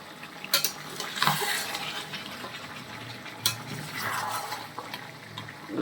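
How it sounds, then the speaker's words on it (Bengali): Chicken being stirred in a cooking pot, with spoon scrapes and metallic clinks against the pot over a low simmering background, a few sharper knocks spaced through it. "নিচে যাতে লেগে না যায় তার জন্য সুন্দর করে এটাকে আবার নাড়িয়ে দিতে হবে"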